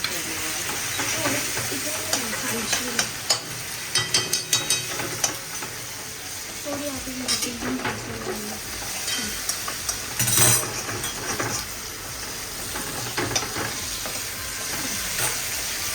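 Stir-frying in a kadhai during a home cooking session, a continuous sizzle with repeated spatula scrapes and knocks against the pan, and soft household voices now and then in the background.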